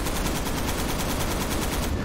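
Sustained, rapid autocannon fire in the Ravenfield video game, set on a Shanghai bridge battle map, with dense repeating bursts that carry loud and steady through the whole stretch without any voices.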